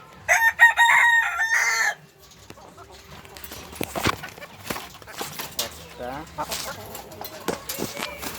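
A rooster crows loudly and close for about two seconds in a coop holding a rooster and a hen, followed by softer clucks and shuffling while someone talks.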